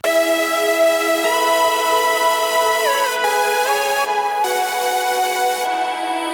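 Electronic lead from an FL Studio remake of a song, layered with vocal chops and harmonies, sustained bright chords shifting in pitch, loud and alone.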